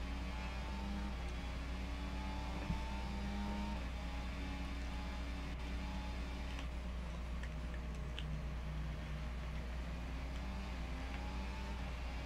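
F1 24 race car on a flying lap in a video game, a steady low engine drone with shifting tonal whine, moderately quiet and continuous, without speech.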